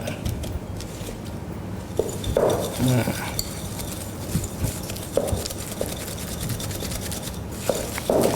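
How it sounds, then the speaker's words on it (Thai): Brown sugar and butter are stirred together in a bowl for chocolate World Cup cupcakes, giving a run of rhythmic scraping and knocking strokes close up, with brief pauses between bursts. "คนให้น้ำตาลกับเนยนี่เข้ากันก่อน"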